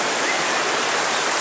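Small river flowing outdoors on a forest trail, a steady close rushing of water filling the whole short stretch with no other sounds.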